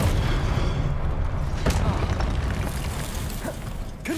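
Booming spell blasts from the Confringo fire curse in the game Hogwarts Legacy, heard as dense, rumbling explosions that roll continuously at close range, with a few sharper bursts layered in.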